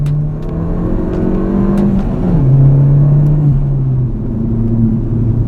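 A Ford Fiesta ST Mk7 accelerates hard with the engine note climbing, dropping at a quick gear change, then climbing again through the next gear, loud and close with no talking.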